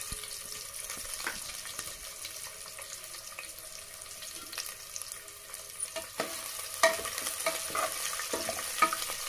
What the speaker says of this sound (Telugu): నెక్స్ట్ ఇందులో కట్ చేసి పెట్టుకున్న ఆనియన్స్ వేసుకొని ఫ్రై చేయండి